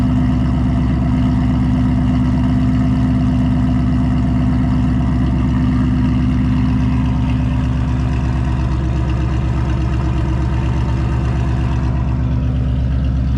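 A Whipple-supercharged 2024 Mustang GT engine idles steadily up close, a loud, even, throbbing rumble with a rough pulse that holds throughout, with no voices over it.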